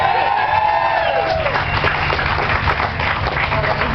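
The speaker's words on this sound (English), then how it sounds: "Give him a round of applause." Steady crowd applause with cheering and scattered whoops from an audience at a steampunk convention fashion show, loud and continuous throughout, with a few voices mixed in.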